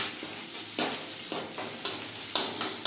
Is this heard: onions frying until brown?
yes